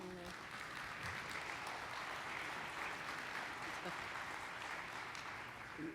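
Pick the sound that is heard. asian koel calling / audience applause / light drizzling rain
audience applause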